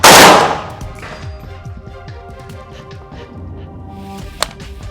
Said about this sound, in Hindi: ये लॉक सिंगल फायर पर है